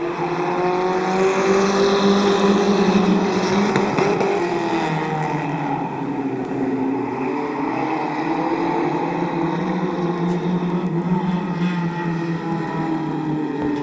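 Compact division stock cars at Midvale Speedway roar into turn four, engines loud and sustained with shifting pitch as the pack sweeps through the corner together.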